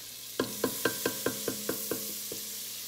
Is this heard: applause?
no